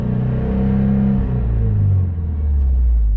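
A 500HP Subaru STI engine being checked for a misfire, revving up from idle: a steady, loud, close rumbling drone with engine tone shifting as it rises and eases, no talk.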